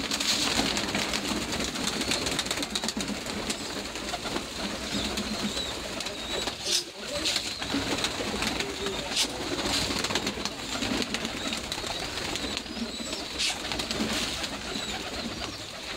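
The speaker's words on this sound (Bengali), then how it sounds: "এই যে দেখুন আমার কবুতর।" Pet pigeons on a rooftop at dawn coo softly through a constant, broad background wash, while scattered flutters and small knocks come and go.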